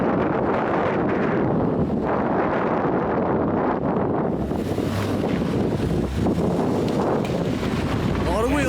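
Blizzard wind buffets the microphone in a dense, roaring rumble that swells and shifts throughout, loud and close, with a voice partly buried beneath it.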